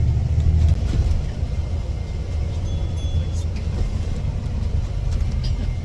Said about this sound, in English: I've jumped onto the bus now